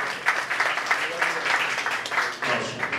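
Audience applause at an Urdu mushaira poetry gathering in Bhiwandi, a steady wash of many hands clapping through the whole stretch, moderately loud with a voice audible underneath.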